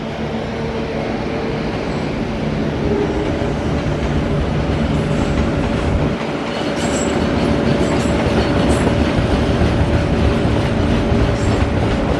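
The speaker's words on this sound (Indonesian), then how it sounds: "beneran kereta balapan yang satu ke arah Gambir yang satu ke arah Pasar Senen" A Jakarta commuter train rolls steadily along the rails at a station for several seconds, a continuous loud rumble with faint clacking and some metallic squeal.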